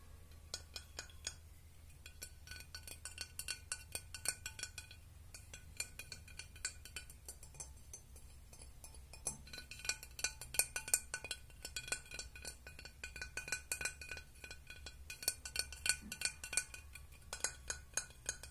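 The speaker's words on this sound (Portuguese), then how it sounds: "Agora, som de vidro" Glass objects clink and tap repeatedly in an ASMR recording, a steady stream of close, bright, delicate chimes and knocks with no speech, fairly quiet overall.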